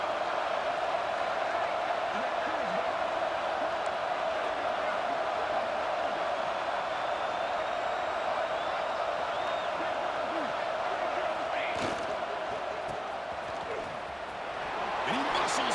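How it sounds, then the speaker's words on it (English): Roaring home stadium crowd in EA Sports College Football 26, a steady dense wall of cheering noise that holds throughout, with a brief swell near the end. "this home crowd is firing up and ready to make a difference"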